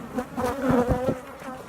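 Honeybees hum and buzz around an open beehive in a bee yard on an evening, a steady close drone with individual bees passing near.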